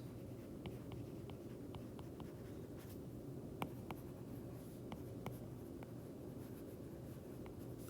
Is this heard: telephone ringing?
no